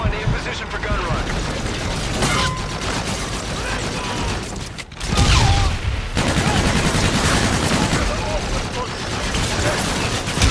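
Aircraft gun run in the sci-fi shooter Call of Duty: Infinite Warfare, with dense, continuous gunfire and heavy booms filling the scene, a brief lull near the middle followed by a loud surge, with game radio voices over it.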